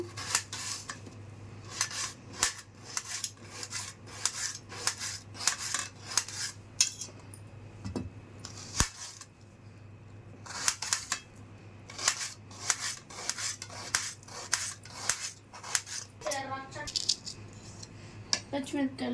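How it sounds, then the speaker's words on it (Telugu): A knife chops raw mango into medium-thick pieces for a Nellore-style fish curry, with steady, close rapid taps of the blade on a board and some rattling of utensils between strokes. "కొంచెం లావు ముక్కలు కట్ చేసుకోండి మరీ లావుగా కాకుండా సన్నంగా కాకుండా మీడియంగా కట్ చేసుకోవాలి"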